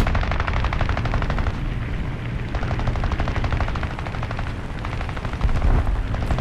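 Rapid machine gun bursts from a CR.32 biplane in War Thunder rattle loud and close, with dense repeated firing through most of the stretch and a few brief pauses.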